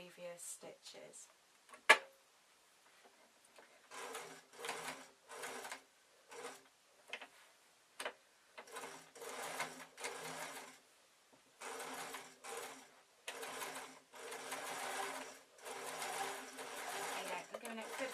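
A sewing machine runs in repeated bursts of rapid stitching along a flowing shirt hem, short runs at first and then longer ones, separated by pauses and small clicks, close and clear.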